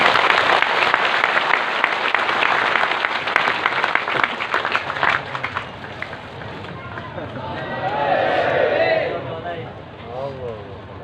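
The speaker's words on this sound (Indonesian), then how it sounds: "Tepuk tangan buat negeri kita" An audience at an Indonesian religious gathering applauds loudly for several seconds, then the clapping thins and fades, leaving crowd murmur and a voice.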